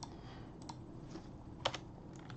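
Notes are typed on a computer keyboard, heard as faint, scattered keystrokes clicking at an uneven pace, quiet and close, with no speech.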